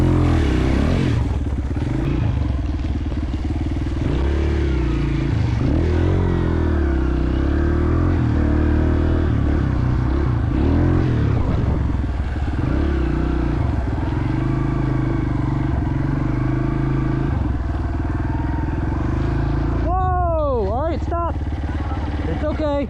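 A 230 dirt bike engine runs steadily throughout a trail ride, a loud continuous drone with revving that rises and falls, plus some clattering, while voices talk over it.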